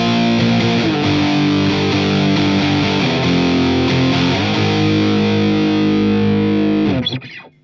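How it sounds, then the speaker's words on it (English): Electric guitar through a Boss DS-1 distortion pedal chugs a dense, gritty chord riff that rings loud and close before being muted at the end, with no talking. "And the DS1 sounds like this."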